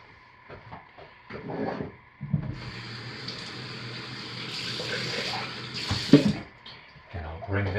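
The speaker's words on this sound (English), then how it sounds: "I will start by slowly, carefully pouring the cooled lye water solution into the cooled oils." Cooled lye water solution pours steadily into cooled oils for soapmaking for several seconds with a soft trickling wash, close by, ending with a brief clink and light handling noises.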